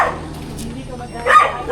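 Several dogs bark close by on a bike ride out to a cafe, a couple of sharp yips rising over wind noise and a person talking.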